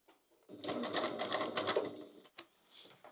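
A sewing machine runs in a steady burst of stitching along a crossbody bag seam, then stops, followed by a couple of short clicks and handling sounds, close and fairly quiet.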